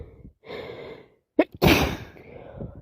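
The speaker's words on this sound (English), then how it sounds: "Can't stop sneezing and sniffing" A person with a cold turned sinusitis sneezes up close: a couple of breathy inhales, a short catch, then a sharp explosive sneeze trailing into a long exhale.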